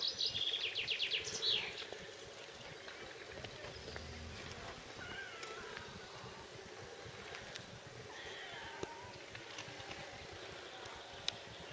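A cat meows a few times up close in a quiet room, the calls standing out clearly over faint background hiss and some soft chirping noises.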